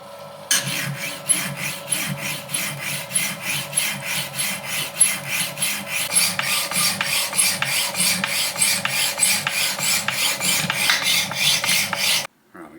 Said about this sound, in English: then we're going to file it to shape